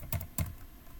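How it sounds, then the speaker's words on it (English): Two quick, crisp keystrokes on a computer keyboard while entering a key phrase into a citation search, close and fairly quiet, with no talking. "I will quickly start typing"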